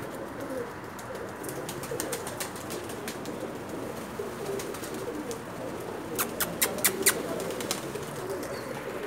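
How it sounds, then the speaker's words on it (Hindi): Pigeons cooing and fluttering as they land on a rooftop in Jeddah at evening, with bursts of flapping wings, the wingbeats growing louder near the end over a soft outdoor hum. "शाम का टाइम है, कबूतर उतरते होते हो देखें माशाल्लाह।"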